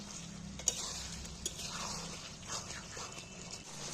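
Mutton sizzling and being stirred in a pan with onion and tomato gravy, a spoon scraping and clinking against the metal pot in a few sharp knocks over a steady close frying hiss.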